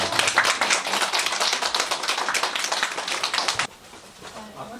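A lecture audience gives a dense burst of clapping for a speaker after a first talk, brisk and lively for about three and a half seconds before cutting off to quiet room noise.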